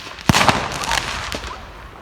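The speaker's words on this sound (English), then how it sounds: "We're watching fireworks" Canada Day fireworks burst outdoors, a few sharp close booms and crackling pops spread over two seconds, with a lingering rumble between blasts.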